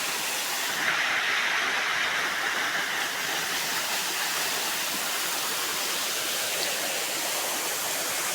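A waterfall pours down in a constant, loud, hissing roar, close by and unbroken throughout, with no voices over it.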